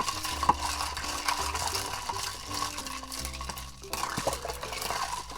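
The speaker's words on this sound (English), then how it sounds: "And then give it one more stir. Get all that boba in there." Ice and boba pearls clink and swirl as iced passion fruit green tea is stirred in a cup, a steady scraping, rattling churn close by with a few sharper knocks, no voices.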